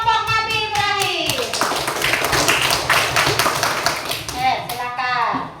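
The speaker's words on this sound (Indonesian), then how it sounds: "Silakan beri tepuk tangan untuk kelompok Nabi Ibrahim." An audience claps for a student group presenting at a religious-education teacher training session, brisk continuous hand clapping close by, with voices heard over the start and end.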